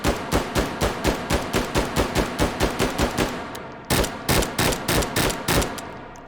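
A G11 rifle fires in the video game Hot Dogs, Horseshoes and Hand Grenades, with loud, rapid, evenly spaced shots in a long string, a brief pause, then another quick run of shots.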